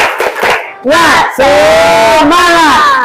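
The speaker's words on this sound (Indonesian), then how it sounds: "Yuk, kita tepuk semangat." A classroom of students stands for a 'tepuk semangat' cheer: a few quick rhythmic claps, then loud, drawn-out group shouts chanted together close by.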